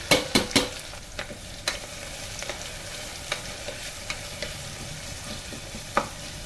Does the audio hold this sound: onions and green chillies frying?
yes